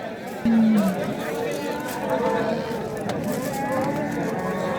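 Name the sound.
cattle at a livestock market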